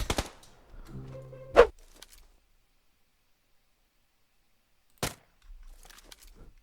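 Gunfire in the video game PUBG Lite: a few sharp isolated shots crack out, one near the start and another around the middle, separated by quiet stretches and a brief low hum.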